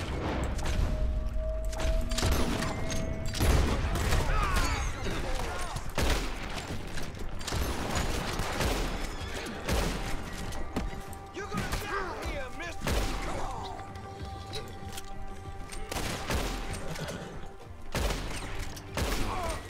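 Gunfire in the western video game Red Dead Redemption 2 during a wagon stick-up: repeated sharp shots and a scattered fusillade with thuds and crashes, loud and close, with game dialogue mixed in.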